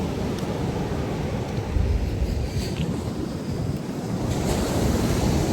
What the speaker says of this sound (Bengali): বাতাসের কারণে সাগরের পানি মানে ঢেউ বাইরে গেছে গা